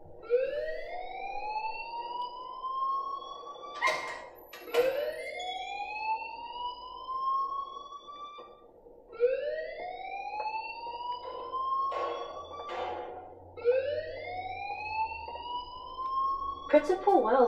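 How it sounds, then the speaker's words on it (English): In the video game Life Is Strange, a school alarm sounds in repeated rising whoops, each sweeping upward and cutting off, loud and continuous across the stretch, with a voice talking underneath and occasional sharp knocks. "please turn off that alarm since that's your job"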